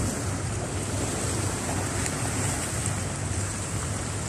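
Sea waves at the baywalk in the City of Naga, Cebu, a steady broadband roar of surf mixed with wind buffeting the microphone, with no talking.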